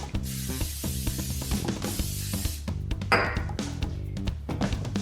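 A steady hiss of spray runs for several seconds, close and continuous, over a low humming background with occasional clinks.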